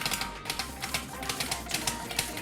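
Keyboard keys are tapped rapidly during osu! gameplay, producing a quick, irregular run of sharp clicks at close range, with no talking.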